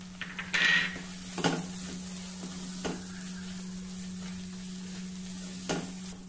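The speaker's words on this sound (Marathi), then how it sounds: "चिंचेचा कोळ ह्या प्रकारे परतून घेतला की त्याची चव खूप छान येते" Tamarind pulp with red chili powder and garam masala sautéing in a pan, a steady low sizzle with a few sharp clinks of a spoon against the pan.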